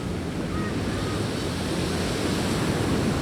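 Ocean surf on a Puerto Rico beach makes a steady, broad wash of breaking waves mixed with wind rumble on the microphone, loud and continuous throughout with no talking.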